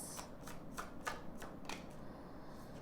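Tarot cards shuffled and drawn by hand, soft close flicks and riffles in a loose rhythm of about six light strokes, faint and intimate with no talking.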